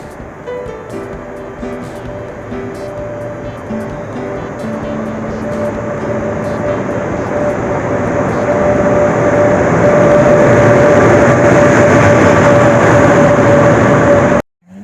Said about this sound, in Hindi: फाइनली मेरी ट्रेन आ गई है।